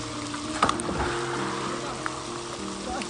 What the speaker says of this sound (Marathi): पाण्याचा वेग मित्रांनो खूप जास्तच आहे